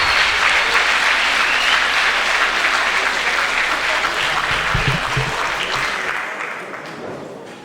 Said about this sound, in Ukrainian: Ну ось ви чуєте, якими оплесками зараз Богдана Копкіна вітають.